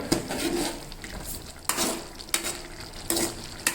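A spoon scrapes and stirs through a bubbling pot of vegetable lentil sambar in repeated strokes, with a steady sizzle underneath.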